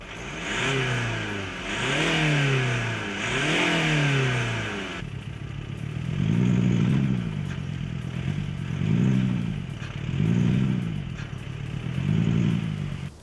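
A Skoda Kodiaq vRS engine revs in repeated rising and falling bursts, played back through a speaker and fairly loud, with three quick sweeps followed by four slower, deeper swells.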